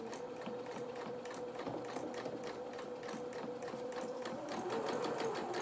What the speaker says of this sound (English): you might need to just help the machine go over the top of the threads and over the top of the fabric where it's really thick